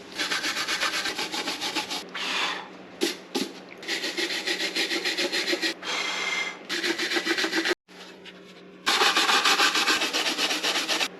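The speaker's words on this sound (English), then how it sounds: "I'm gonna see how much I can clean off of this surface rust before I take" Surface rust is scrubbed off a 1995 Honda Civic part with rapid, harsh rubbing strokes in bursts, separated by short pauses, close and loud with no speech.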